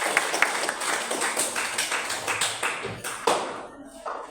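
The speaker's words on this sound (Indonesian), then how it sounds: "Oke, beri tepuk tangan dulu untuk mereka berdua" Classroom audience clapping for two student presenters, a dense patter of many hands that carries on steadily for about four seconds and then thins out toward the end.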